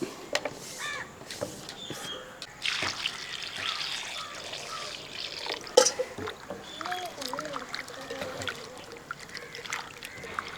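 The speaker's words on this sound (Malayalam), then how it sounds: "ഇനി ഇത് ഒന്നുകൂടെ ഒന്ന് കഴുകിക്കൊണ്ട് വരാം" Water sloshes and trickles as thinly sliced potatoes are rinsed by hand in a bowl, with irregular splashes and a brief louder splash midway.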